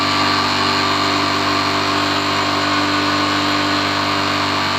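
Engine idling steadily and loudly after its adjustment screw is loosened half a turn during mileage tuning; a constant dense hum with no breaks and no speech.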